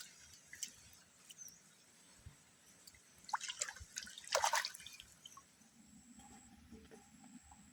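Water dripping and splashing while things are washed clean on a rural farm plot, faint scattered drips with a brief burst of louder splashes midway, no talking.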